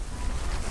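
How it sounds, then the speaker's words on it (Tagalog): Wind gusts outdoors in a home garden, a continuous low rushing roar buffeting close against the microphone with no voice heard. "So medyo mahangin mga kafengyo."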